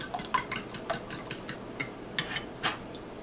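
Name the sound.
eggs being scrambled in a bowl for an omelet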